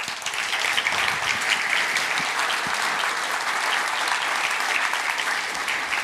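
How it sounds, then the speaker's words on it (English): Audience applause after a talk at the FMX 2023 visual-effects conference, a loud, sustained round of clapping that fills the hall evenly for several seconds. "Let's give a round of applause to Victor."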